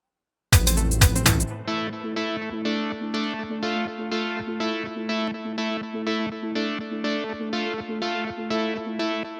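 A sharp burst opens into a bright, buzzy dubstep synth lead in FL Studio, pulsing in a steady rhythmic pattern of repeated notes, with no voices.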